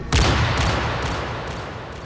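One loud, sharp rifle shot cracks at the start, then a long booming echo rolls away and fades.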